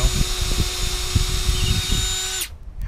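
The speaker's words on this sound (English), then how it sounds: "So I'm just going to drill this out." A DeWalt power drill runs steadily, drilling out a broken bolt with a sustained whine and uneven grinding bursts, loud and close, then cuts off abruptly near the end.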